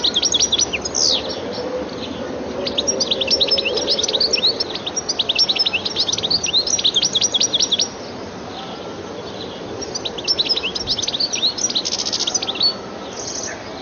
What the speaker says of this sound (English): The goldfinch's looks, as well as its attractive calls and more elaborate song, make it a welcome visitor to gardens.